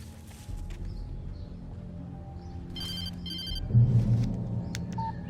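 A telephone rings in the Alan Wake Remastered video game as two bursts of electronic tones over a low ambient drone, followed by a deeper, louder rumble near the end.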